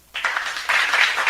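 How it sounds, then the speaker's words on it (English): An audience bursts into a short round of applause at an expo opening ceremony, the clapping starting abruptly and continuing dense and steady. "let us give Honorable Francis V. Mapile a big warm of applause"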